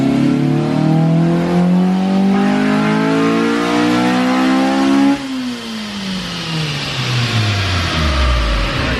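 Honda Civic Si engine held high and revving steadily during VTEC tuning in a garage, then dropping off sharply as the revs wind down; loud, close and continuous with no talking.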